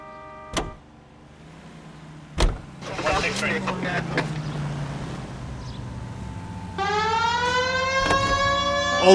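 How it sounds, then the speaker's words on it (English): A police car siren in the video game L.A. Noire winds up and wails steadily in the last few seconds, following a car door slam, an idling engine and characters talking. "We have a siren."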